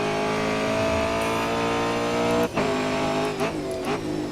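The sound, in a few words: race car engine in video game Grid Autosport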